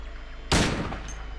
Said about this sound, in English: Apparently shooting it's not good enough, you have to step on it